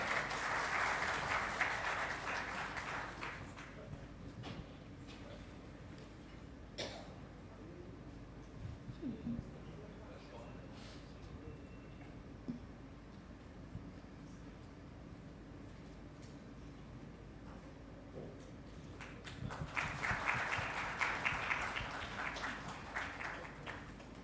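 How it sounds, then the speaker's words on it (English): Applause from the audience at a stroke medical symposium at a hospital in Greater Noida swells at the start, fades into quiet room noise with scattered sounds, then rises again near the end. "Can we have a huge round of applause for both of them?"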